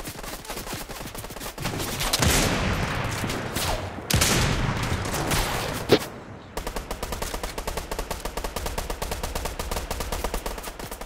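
Rapid bursts of automatic gunfire in Fortnite as a player shoots at an opponent's builds, continuous loud rattling volleys broken by a brief pause and then resuming in fast, even repetition.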